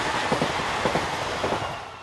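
A train on the Mâcon to Chalon-sur-Saône main line in France, hauled by locomotive 7240 on a service from Paris, rumbles past steadily with rhythmic wheel clatter over rail joints.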